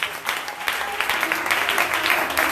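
Church congregation at a Sunday service in Benin applauding together, a dense steady clapping with scattered voices mixed in throughout, fairly close and continuous.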